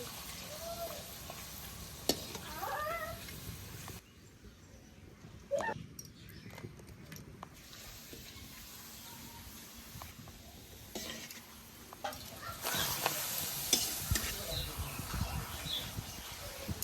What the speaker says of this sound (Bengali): তেলটা গরম হয়ে গেছে, এবার আমি পাঁপড়টা দিয়ে দেবো।